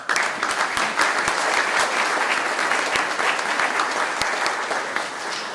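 Audience applause at a community spirit award ceremony honoring a historic African Nova Scotian community in Weymouth Falls: loud, sustained clapping from a large crowd with sharp individual claps close by, continuing throughout.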